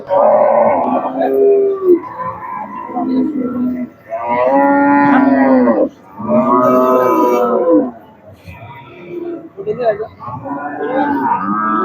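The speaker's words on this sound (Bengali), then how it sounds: "লাল গরু দেখা যাচ্ছে" Cattle moo loudly and close by at a Qurbani cattle market in Hazratpur, with several long drawn-out calls in a row and people talking around them.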